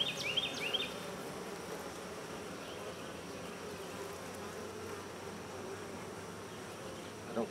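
A dense, continuous hum of honey bees buzzing close inside an open beehive, with a few brief higher whines from individual bees flying past near the start, and no talking.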